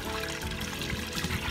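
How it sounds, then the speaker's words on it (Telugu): Cow urine poured into a 200-litre drum of water while making jeevamrutham for natural farming, a steady, close, continuous splashing pour that carries on without a break. "మొదట డ్రమ్ములో 200 లీటర్ల నీటిని తీసుకొని దానిలో 10 లీటర్ల ఆవు మూత్రం తీసుకోవాలి"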